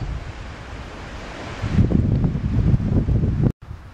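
Strong wind on an open hilltop near Alcoi blusters across the microphone in a loud, close rumbling roar. It builds into heavier gusts partway through and cuts out for a moment near the end.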